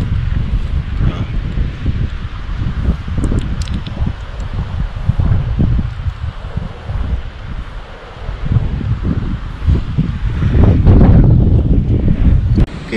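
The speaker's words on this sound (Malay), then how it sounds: "Hari ni memang angin kuat." Strong wind gusts across an open rooftop overlooking a beach at night, a steady loud roar of buffeting microphone noise that swells heavier toward the end, with no voices.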